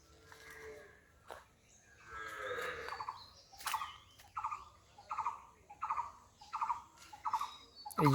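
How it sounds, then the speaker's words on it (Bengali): Bird calling in a Bengal village near a pond, a series of about eight short, evenly spaced call notes following a few scattered cries, faint and distant. "এখানে একটা পাখির ডাক শোনা যাচ্ছে, এটা সম্ভবত কাঠ ঠোকরা হবে"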